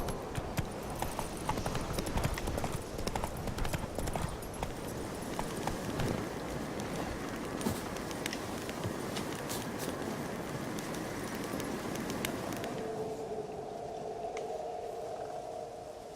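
Roach the horse from The Witcher 3 trotting, hooves clip-clopping in a steady rapid rhythm, close and clear, fading out near the end as a faint low tone lingers.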